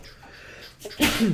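A single sharp sneeze bursts out close and loud near the end, following a quiet stretch with faint speech.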